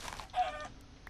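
A chicken in the video game Minecraft gives a single short, faint cluck, brief and quiet against low background noise.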